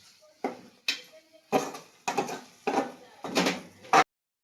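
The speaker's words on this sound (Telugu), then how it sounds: "మొత్తం టమాటాకు ఉల్లిగడ్డ పేస్ట్ అదంతా మిక్స్ అయ్యేటట్టు మంచిగా కలుపుకోవాలి" A spoon scrapes and clanks in a pot of masala mixed with tomato and onion paste for a fish curry made without tamarind: about seven irregular metallic knocks and scrapes, close and moderately quiet, ending abruptly.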